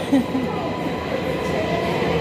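A subway train arrives, rumbling and clattering along the tracks, a steady loud roar with faint squeals of wheels, with brief voices mixed in.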